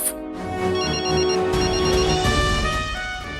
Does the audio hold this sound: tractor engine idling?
no